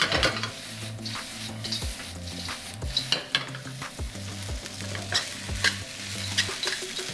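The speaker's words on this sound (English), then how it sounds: "So now we are sauteing." Kung Pao shrimp fried rice sautéing in a pan, with a steady sizzle and frying hiss under repeated scraping and stirring strokes of a utensil against the metal, close and continuous.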